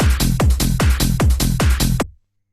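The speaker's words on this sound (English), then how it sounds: "so that's effectively the 3 bass lines together, which will sound like this" Three layered sampled hardhouse bass lines play together as a loud, pulsing riff of about eight punchy descending notes in quick even rhythm, stopping abruptly into silence.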